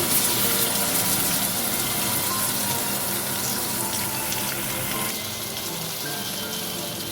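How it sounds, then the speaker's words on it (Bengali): Water gushes steadily into a pan of sweet and sour Bengali amra chutney with melted sugar, a continuous loud splashing pour that eases slightly toward the end, without any talk. "এরপর আমি জল দিয়ে দিচ্ছি।"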